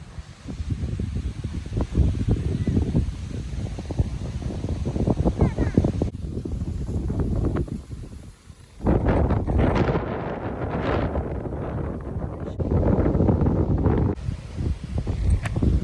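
Strong gusting wind on an open golf course buffets the microphone with loud, continuous low roaring that surges and drops throughout, with a brief lull midway, while people talk intermittently underneath.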